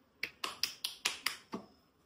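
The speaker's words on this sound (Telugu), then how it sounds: "చిటికలు చిటికలు అందరు చిటికలు." Seven sharp finger snaps in a quick, slightly uneven run at a home cup-and-ball game with family, close and crisp, with no talking.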